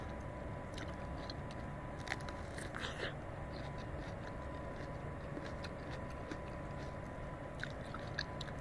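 Fresh green plums, picked in Sweden, are eaten raw with soft, close crunching and chewing bites scattered over a faint steady background hiss.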